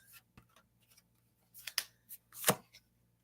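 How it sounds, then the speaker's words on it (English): Tarot cards shuffled from the side in a few quick, soft riffling bursts with short pauses between, close and quiet. "Oh, and I learned to shuffle from the side like this."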